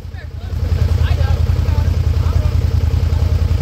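A 300 ATV crawls at low speed over rough ground at an off-road park, its engine a loud, close, pulsing low rumble with faint voices in the background.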